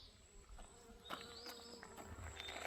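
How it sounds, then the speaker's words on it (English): Faint honeybees buzzing and droning close by around backpacks on the Appalachian Trail in North Carolina, quiet outdoor air, with a few light rustles and knocks scattered through it. "our packs are just covered in bees"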